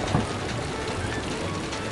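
Rain sound effect in an animated Dr. Seuss storybook, a dense, even hiss of steady rainfall, loud and continuous through the short stretch with no voices.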